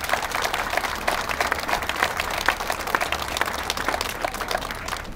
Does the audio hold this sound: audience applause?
yes